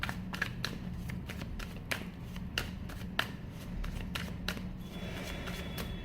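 Close, soft shuffling of tarot cards, with light flicks and taps repeating irregularly over a low steady hum.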